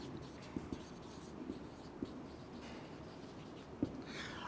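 Chalk or marker writing on a board during a chemistry lecture, soft scratchy strokes with a few sharper taps scattered across a quiet room, no talk.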